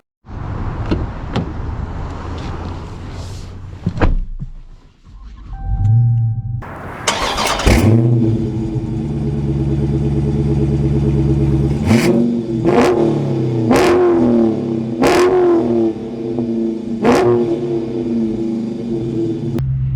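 Chrysler 300C engine cranking and firing up, settling into a rumble, then several strong revving surges as the car accelerates, loud and close with no talking.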